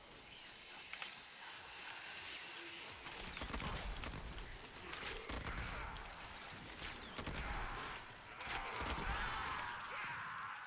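Explosions and gunfire from the Kuva Bramma bow in the game Warframe, a dense, continuous stream of muffled blasts and crackling impacts that rises and falls, heard quietly under talking.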